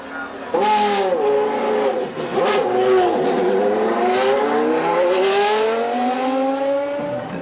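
Formula One car engine at the Monza circuit in 1996, a high-pitched wail with rising and falling revs that climbs steadily across the clip, loud and sustained, with a voice talking over it.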